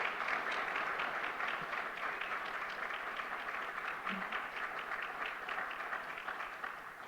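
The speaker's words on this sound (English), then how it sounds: "stand up and give them a round of applause" Sustained applause from a press-conference audience for a team in orange t-shirts who will provide street medicine services, a steady dense wash of clapping lasting throughout with a faint voice underneath.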